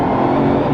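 A Bugatti Veyron engine hums at a steady, moderate pace as the car is driven fairly slowly, producing a loud, even drone with no sharp revving.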